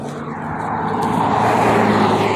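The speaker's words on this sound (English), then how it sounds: "Here comes another car." A car passing by on a street rises steadily from a faint approach to a loud, close broadband engine and tyre roar, with no voices over it.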